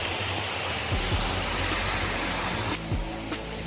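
A broad, steady rush of falling water from a waterfall in the Philippines roars without a break, dense and loud, with faint low rumbling underneath.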